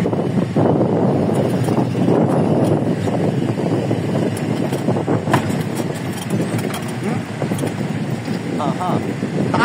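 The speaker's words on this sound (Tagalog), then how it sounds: "Kaya malakas ang hangin dito." Steady, loud rush of wind buffeting the microphone high up on a Makati building, with a low rumble and faint voices underneath throughout.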